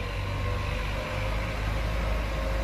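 A Kubota L4508 4WD farm tractor's diesel engine runs at a steady idle close up, a low, even drone with no variation across the short stretch.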